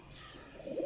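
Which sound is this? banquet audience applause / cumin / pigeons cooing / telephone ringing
pigeons cooing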